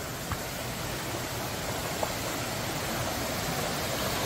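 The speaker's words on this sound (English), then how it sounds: "It is a waterfall." A waterfall in the jungle near Klong Son on Koh Chang gives a steady, dense rushing roar that fills the whole stretch without a break.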